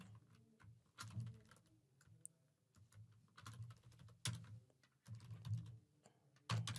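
Quick bursts of typing on a computer keyboard at a desk, keys clattering in uneven clusters with short pauses between, fairly close and moderately quiet, no voices.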